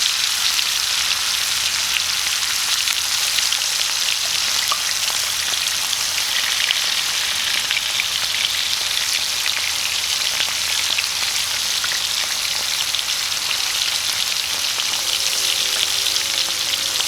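Finger steaks, rectangular strips of a cheaper beef cut, sizzle and crackle steadily in a hot pan, a dense continuous frying sound with faint scattered pops.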